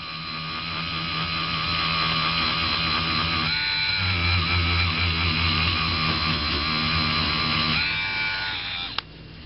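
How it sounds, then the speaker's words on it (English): A Dremel rotary tool polishes a silver ingot with a steady high whine and buzzing harmonics that shift pitch slightly as the load changes, loud and alone, ending with a sharp click. "Just keep the Dremel moving, don't hold it in one spot."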